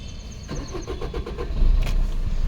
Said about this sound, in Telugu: ఇంజన్ స్టార్ట్ చేసి చూపిస్తా ఒకసారి.